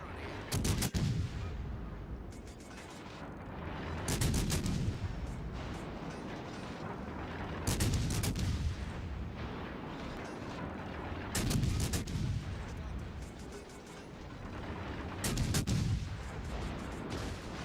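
Heavy booming cannon fire in a tank battle video game, loud blasts repeating roughly every four seconds over a constant rumbling engine drone, with occasional faint voices in the background.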